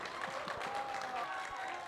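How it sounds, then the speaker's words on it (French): Short burst of scattered audience clapping at a film club screening, fairly faint and brief. "Applaudissez."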